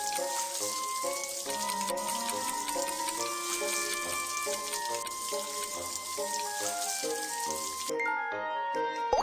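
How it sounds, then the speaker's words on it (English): Clean water rinsing a scalded arm wound in Baby Panda World, a continuous splashing tap-like stream running steadily throughout, bright and fairly loud, layered over cheerful game music. "Rinse with clean water to cool the wound."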